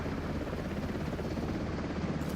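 Helicopter in a video game, its rotor chopping in a steady, close, loud pulsing drone with no voices over it.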